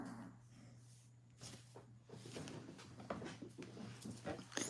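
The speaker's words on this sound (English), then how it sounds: "But you growl with that ball in your mouth." A dog with a ball in its mouth makes low, muffled growling and huffing sounds close by, quiet and uneven, over a steady background hum.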